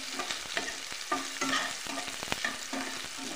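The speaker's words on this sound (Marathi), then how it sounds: "कांदा लाल होईपर्यंत भाजून घ्यायचा।" Onion frying in a pan for chivda bhaji, stirred with a utensil that gives quick scraping taps over a steady sizzle, close and moderately loud, with no voices.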